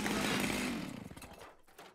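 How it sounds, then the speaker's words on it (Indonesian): A cartoon chainsaw revs loud and rough at the start, then fades into a sputtering, uneven idle. "Aku tidak bisa mendengarmu di tengah suara mesin gergaji ini."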